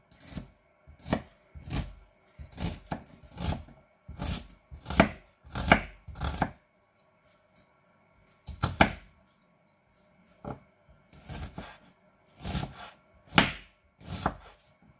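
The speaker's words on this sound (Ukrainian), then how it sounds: "Цибульку порізати як можна дрібнішенько." A knife finely chops onion on a board in quick bursts of sharp, close taps, pausing briefly between runs of rapid strokes.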